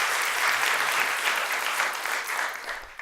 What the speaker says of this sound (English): we should clap for her anyway